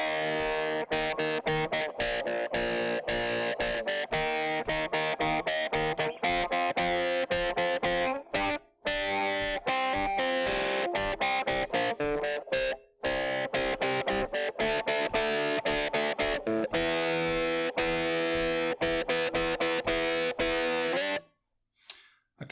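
Distorted electric guitar with effects plays the chorus riff of a song, loud and steady with chords ringing continuously, a couple of brief gaps midway, then stopping near the end.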